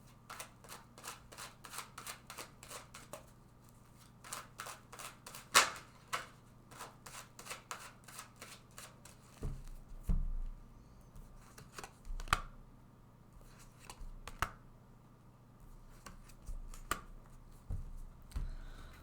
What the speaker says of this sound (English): Let's take 3 cards for overall clarity, guidance, and prediction.